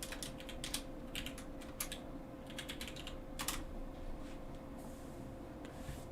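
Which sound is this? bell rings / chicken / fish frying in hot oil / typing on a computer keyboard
typing on a computer keyboard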